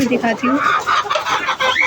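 Hen clucking beside newly hatched chicks in a farmyard coop, with soft repeated clucks and chick peeps close by under a woman's speech.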